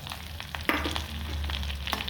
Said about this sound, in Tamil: இதை எண்ணெயில் நம்ம வதக்கிடுவோம்